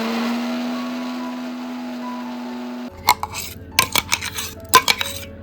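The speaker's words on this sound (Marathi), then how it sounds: "इकडे आता सर्व टोमॅटो मिक्सरमध्ये बारीक करून घेतोय." A kitchen mixer grinder whirs steadily with a high motor hum while grinding tomatoes. It then cuts off abruptly and gives way to close clinks and clatters of the jar and utensils being handled.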